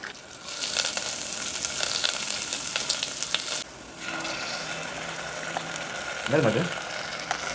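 Cashews and whole spices such as cinnamon and cloves fry in hot oil, a continuous crackling sizzle with scattered pops and a brief stir near the end.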